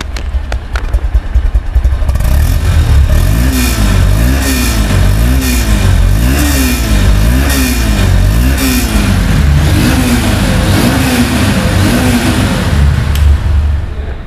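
A 2022 Honda XBlade motorcycle with only about 600 km on it runs just after starting. A few knocks open the clip, then the engine revs in repeated rising and falling surges, loud and close throughout.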